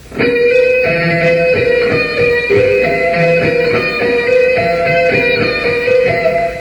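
An electric guitar plays a slow lick of sustained, ringing notes that shift steadily from one to the next, loud and continuous without any voices.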